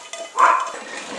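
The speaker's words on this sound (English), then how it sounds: "I'm going to cut my video off until my dog shut up." A pet dog indoors in a home kitchen gives one short, sharp bark in the middle, with faint background noise before and after it.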